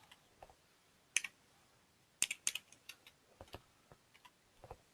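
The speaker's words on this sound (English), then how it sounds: "And I'm typing." Scattered light clicks of keys being typed, irregular and quiet, with a few sharper taps standing out; no voices.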